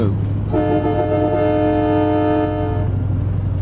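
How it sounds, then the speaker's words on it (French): A truck horn in the Euro Truck Simulator 2 driving game sounds one loud, sustained blast lasting over two seconds, rising over a low, steady engine hum before cutting off. "je vais mettre un petit coup de klaxon"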